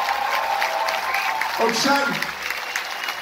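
Crowd clapping at a Dutch carnival fraternity celebration, a moderate round of applause running under someone speaking into a microphone.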